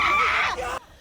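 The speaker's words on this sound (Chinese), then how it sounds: "群众尖叫声划破黑夜" Screaming from protesters clashing with soldiers and police during the Seoul martial-law standoff at night, a loud, high, strained cry that holds briefly and then cuts off abruptly.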